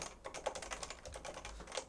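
Quick, even keystrokes on a Realforce 87U keyboard, typed with a firm touch, form a soft, muted patter of rapid clicks heard up close and alone at low volume.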